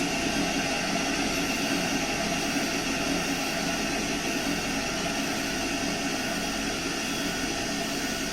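Union Pacific 844 steam locomotive in a video game runs with a steady, loud, unbroken roar and hiss, a constant mechanical drone with no pauses.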